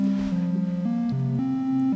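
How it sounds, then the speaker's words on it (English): Smooth triangle-wave notes from a Behringer Model D synthesizer, soaked in Lexicon reverb, step up and down through about five tones in a quick sequence, heard alone. "So just that's a triangle wave."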